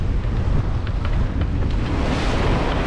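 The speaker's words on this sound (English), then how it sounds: "these wind blown waves, which are not the westerly Atlantic swell, they get really steep and choppy and we splashing all over the place" Steep, choppy wind-blown waves slap and splash around a sailing boat at sea, a continuous rushing wash with wind buffeting the microphone and scattered close splashes.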